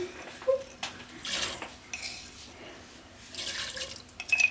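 A spoonful of sugar goes into Kashmiri pink tea, giving a few light metallic clinks of a spoon against the pot or cup, close and scattered, with no talking.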